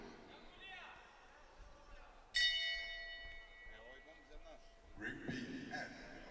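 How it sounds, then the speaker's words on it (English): A boxing ring bell at a 2021 AIBA world championships bout rings out loud and bright once, then decays into a long metallic ringing over arena crowd noise and an announcer's talk. "Bell goes at the end of the round."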